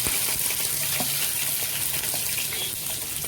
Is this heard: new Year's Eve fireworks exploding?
no